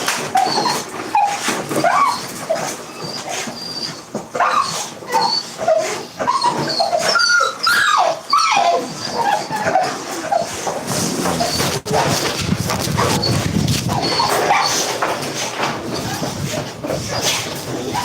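Dogs outdoors on a rough path whimper and yip in steady, overlapping cries, with occasional barks. A person talks intermittently among them.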